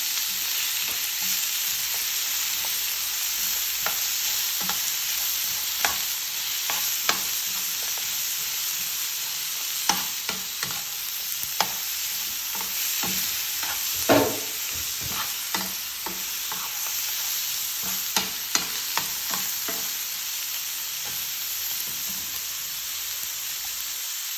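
Ingredients for pig soup frying in a pan give a constant close sizzle, punctuated by scattered clicks and scrapes from stirring with a utensil.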